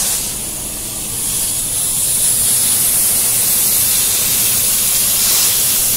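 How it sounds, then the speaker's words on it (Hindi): Diesel sprayed from above and below onto an oil-soaked Maruti Suzuki S-Cross engine, a steady loud hissing spray that runs continuously from start to finish. "उसके लिए ऊपर नीचे से दोनों से हम डीजल का स्प्रे कर रहे हैं"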